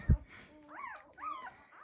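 A brief thump, then soft, high-pitched whimpers from small puppies, two rising and falling cries close by in a quiet room.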